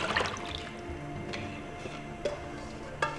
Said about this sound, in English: And now I am adding the kombu water